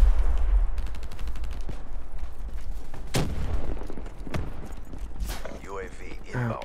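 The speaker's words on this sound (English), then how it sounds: "Somebody's shooting at me." Rapid gunfire bursts and single shots in Call of Duty: Black Ops III Team Deathmatch on the Havoc map, loud and close, mixed with in-game effects while a player talks over the action.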